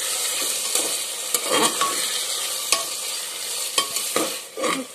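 Spices stirred into tomatoes frying in a pan in a village kitchen: steady sizzle with repeated scraping stir strokes, close and moderately loud, no talk.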